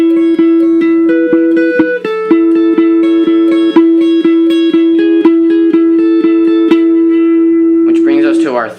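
Guitar playing the first and second parts of a song back to back, evenly paced plucked notes ringing over a held bass note, close and steady, with a brief voice at the very end.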